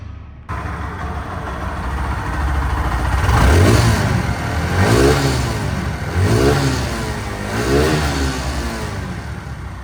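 A Bajaj Pulsar NS 160 motorcycle engine idles close by, then revs up in four rising bursts that fall back between each throttle blip, with no talking.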